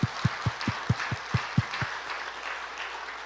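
A church congregation at a Christmas service claps in unison, about eight evenly spaced, firm claps that then loosen into scattered, softer clapping.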